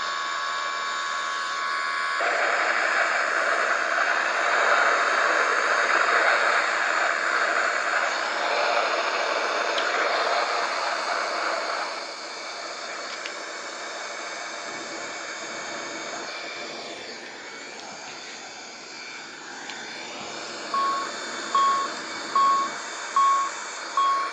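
Airliner jet engines in the X-Plane 11 flight simulator, a steady broad roar that swells as thrust is added and then settles lower, with a few short repeating cockpit tones near the end.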